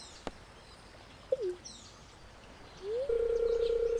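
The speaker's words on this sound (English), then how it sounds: "Squawk loudly." A bird in the Stardew Valley video game gives a short squawking call, followed by a rising electronic tone that settles into a steady hum, all fairly quiet with no talking.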